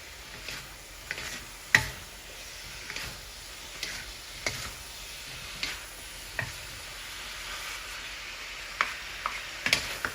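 Pancit bihon rice noodles frying with beef and vegetables in a pan: a soft, constant sizzle broken by irregular scraping and tapping strokes of stirring, close by and without voices.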